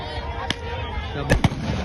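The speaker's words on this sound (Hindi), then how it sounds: "ये देखो इधर जैन भाई पटाखा जला रहे हैं।" A firecracker is lit amid a crowded outdoor gathering, with a sharp crack followed by two loud close bangs under steady crowd chatter.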